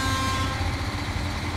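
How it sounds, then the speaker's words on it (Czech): A truck horn in the off-road driving game SnowRunner blares a sustained, train-like honk over a steady low engine rumble, loud and continuous throughout. "Jo, troubí to jak vlak."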